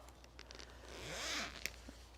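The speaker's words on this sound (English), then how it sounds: "Open the zipper." A zipper on a 2020 Pacsafe Stylesafe bag is pulled open in one smooth, close, quiet stroke, with no talking.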